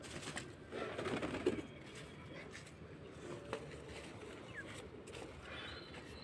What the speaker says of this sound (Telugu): ఇవరి ఫ్రెండ్స్ ఈ 3 పావురాలు చూడండి ఎట్లున్నాయో